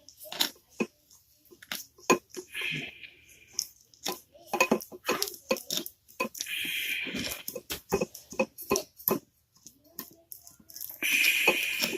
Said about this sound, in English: So I'm going to start giving it a stir